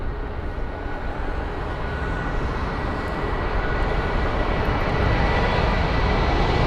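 An Airbus A320 departing London Heathrow gives a steady, broad jet roar that swells gently as it goes, loud and continuous with no voices.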